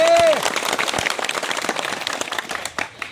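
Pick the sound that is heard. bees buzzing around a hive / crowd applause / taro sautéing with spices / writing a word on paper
crowd applause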